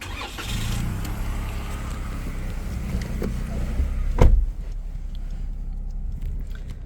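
A 2023 Toyota Yaris Ascent Sport engine starts up with a brief crank burst partway through, then settles into a steady low idle rumble, close and fairly loud, with no talk over it.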